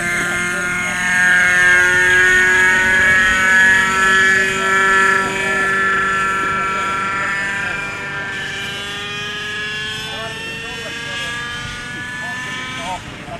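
Radio-controlled helicopter hovering nearby at an autorotation contest, a loud steady whine with sustained rotor and motor tones that drift slightly in pitch, while people talk over it.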